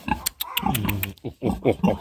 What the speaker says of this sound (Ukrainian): тепер свинка туди піде